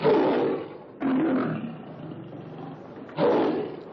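A caged lion roars three times: a loud opening roar, a longer roar with a rumbling tail, and a final loud roar, all close by with no talk over them.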